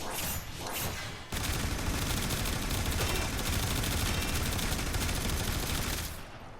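Rapid, sustained Boltor Prime rifle fire in the video game Warframe, a dense loud stream of automatic shots lasting several seconds with a short burst before it.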